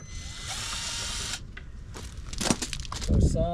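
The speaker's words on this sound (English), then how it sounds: "I'm going to drill the hole out 1/4 inch." A power drill whines steadily for over a second, drilling a hole out to 1/4 inch while installing reverse lights on a 2023 Can-Am Defender, stops, then clicks, rattles and a short grinding burst follow nearby.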